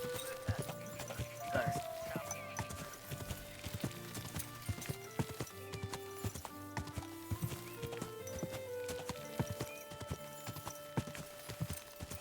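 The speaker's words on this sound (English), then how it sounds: "Easy, good horse." Horse hooves clip-clopping steadily in the medieval video game Kingdom Come Deliverance 2, close and continuous with a brief whinny, layered over faint game background sounds.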